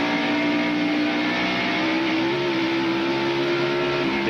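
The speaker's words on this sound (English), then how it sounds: "Accelerates down the back straightaway, 135 miles an hour." A stock car in a NASCAR Winston Cup video game at the 1994 Bristol night race drones at high revs, one loud continuous engine tone that holds steady, then shifts slightly in pitch partway through.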